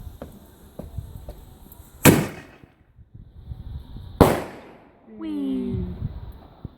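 Bonfire Night fireworks go off in two sharp, loud bangs a couple of seconds apart, each with a short crackling tail, followed by a whistling firework, with quiet voices and ambient noise between.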